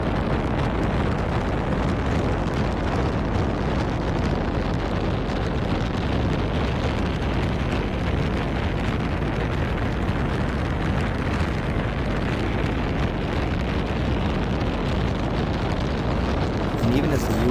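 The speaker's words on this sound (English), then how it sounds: "Engaging engines at full blast." Spaceship USS Mayflower engines launching at full blast, a dense, continuous roaring rumble that stays loud and steady throughout, filling the lows and mids with no pauses.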